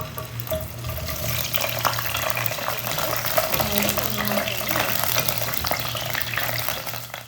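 Cut okra sizzles in hot oil in a saucepan while being prepared for an Onam sadya sambar, making a loud, steady, crackling hiss close up that runs without a break and without talk.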